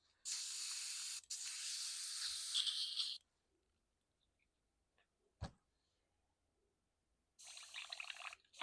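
Airbrush backflow cleaning after painting a Warhammer Champion of Slaanesh: two sharp, hissing bursts of sprayed air, then a quiet gap with a single small knock, and a third spurt near the end.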